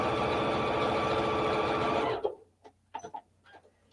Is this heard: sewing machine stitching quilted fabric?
yes